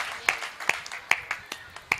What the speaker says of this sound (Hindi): जरा एक बार ताली बजाकर मुझे बता दीजिए